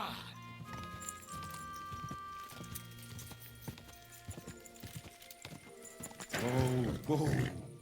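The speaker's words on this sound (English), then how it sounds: "My horse can jump that." Horse hooves clip-clopping at a steady pace in Kingdom Come: Deliverance 2, with a few louder hoof impacts and a brief whinny near the end, set amid faint ambient game sounds.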